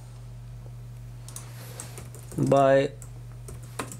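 Keys clacking on a computer keyboard for a few seconds beneath a steady background hum, with a brief spoken word in Hindi in the middle.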